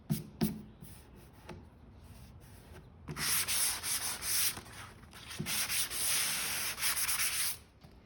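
Wood filler on a piece of furniture being sanded by hand in a restoration, with a few short scrapes first, then sustained rhythmic abrasive strokes, close and fairly loud.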